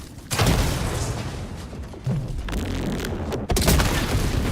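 Autocannon firing in the video game Helldivers 2, heavy booming shots at a slow steady rhythm, loud and close, over a dense rumbling battle background.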